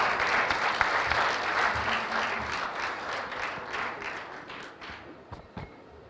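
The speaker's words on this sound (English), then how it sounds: "Let's clap for Didier." Audience applause at a youth capital market forum in Kigali, a dense steady clapping from a crowd that gradually thins and fades to a few scattered claps by the end.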